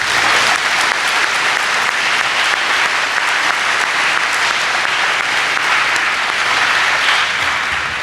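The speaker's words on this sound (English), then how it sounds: "Can we give them a round of applause?" Audience at a school Veterans Day program applauding a choir, steady dense clapping from many hands that fills the room evenly and continuously without pause.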